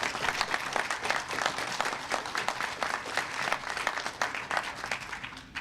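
Crowd applause at an airport event, a loud, continuous burst of many people clapping with individual claps audible in the texture, lasting the whole stretch before easing slightly at the end.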